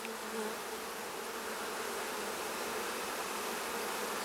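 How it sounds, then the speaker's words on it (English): A honey bee buzzes faintly and continuously inside a varroa mite test chamber, a steady insect drone lasting several seconds with no voices. "a bee got into the outside chamber as well"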